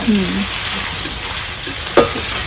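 Onion and garlic paste frying in a pan for a home-style young goat curry gives a steady, close sizzle throughout, with a sharp stirring scrape near the end.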